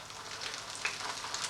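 Beer-battered fish frying in hot oil, a steady dense sizzle with bright crackling pops throughout, close and continuous with no talking.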